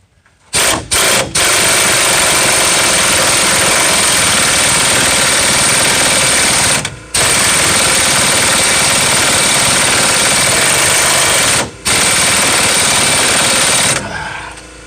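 An air impact wrench runs on a 2006 Ram 1500 front strut nut in long, loud, continuous rattling bursts. Short taps come first, then two extended runs separated by brief pauses, all close.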